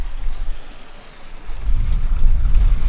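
A catamaran sails through open-sea waves off Martinique, with a loud low rushing wash of water against the hulls and wind buffeting the microphone, swelling stronger in the second half.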